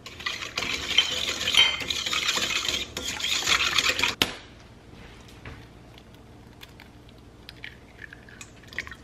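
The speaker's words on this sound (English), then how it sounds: "Once it's proofed for 5 minutes, I'm gonna stir in my sugar." Sugar is stirred into a proofed dry yeast mixture, a spoon scraping and swirling steadily in a bowl for about four seconds, then stopping, leaving faint clicks and quiet room sound.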